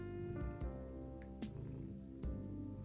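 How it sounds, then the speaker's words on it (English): A house cat purrs steadily and quietly in a room, the low rumble continuous throughout, with a couple of brief soft clicks and knocks nearby. "so if you hear any aggressive purring"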